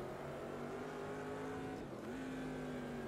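A Corvette C3 in Automobilista 2 accelerating up and over a rise, its engine a steady sustained drone with a shift in pitch partway through, heard at moderate level.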